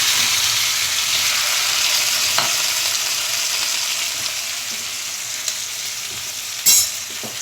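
Onion, ginger and green chili frying in hot oil in a pan beside frying fish, a continuous close sizzle and crackle with a few stirring knocks and one brief louder scrape near the end.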